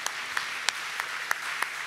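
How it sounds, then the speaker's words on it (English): A church congregation claps in a steady rhythm, sharp regular claps roughly every third of a second over a diffuse crowd wash, moderately distant. "As you keep on clapping, that's how you'll be clapping."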